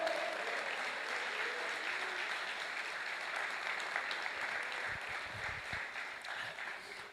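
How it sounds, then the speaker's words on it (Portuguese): A church congregation applauding at a sermon, a broad steady patter of many hands held at moderate distance for about seven seconds, with a few low thumps toward the end. "aplauda o Senhor."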